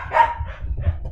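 Dogs barking indoors at a home, a couple of short moderately loud barks close by, heard alone without talk.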